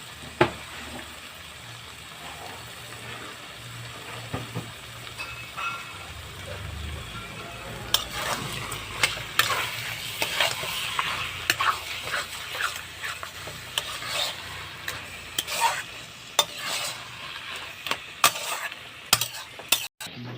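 Taro leaves cooking with chickpeas in a pan, stirred over steady sizzling with repeated scraping and clinks of a spoon against the pan, growing busier and louder partway through, with no talking.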